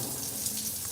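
Water running steadily from a filtered-water tap, a close, even hiss and splash lasting about a second with no voices.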